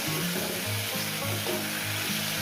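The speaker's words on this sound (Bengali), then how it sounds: "এটা আমি চার পাঁচ মিনিট ধরে ভেজে নেব" Ridge gourd and egg fry in a hot pan with a steady, close sizzle and crackle, plus occasional stirring scrapes, and no talking.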